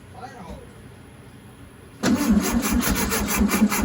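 A 1967 VW Beetle, parked for over 20 years, cranks and catches after two quiet seconds, its engine bursting into a loud, steady rough running that continues to the end.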